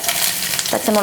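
A brief burst of hot sesame oil sizzling in a pan while making mango pickle, a steady bright hiss with a faint clatter near the end.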